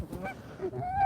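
A pet goose named Pretty Bird honks in a short series of close, loud nasal calls, rising toward the end, with no talk over it.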